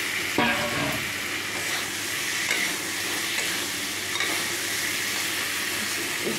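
Soaked eggs and potato pieces frying in oil in a pan, a steady bright sizzle with a sharp burst near the start and occasional stirring scrapes, close and continuous.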